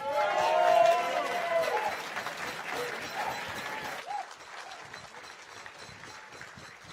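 An audience at an award ceremony in St Mary's Stadium applauds and cheers a presenter coming on stage, with loud sustained clapping and some whoops that gradually fade as a voice speaks over it.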